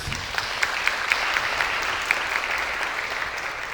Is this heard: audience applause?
yes